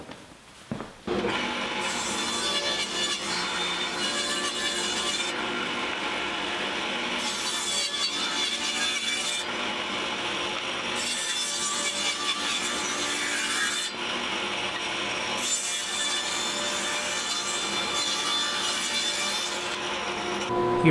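A thick wood board is resawn for a peppermill blank, a loud, continuous rasping cut that runs steadily for about twenty seconds with brief shifts in intensity and no voices.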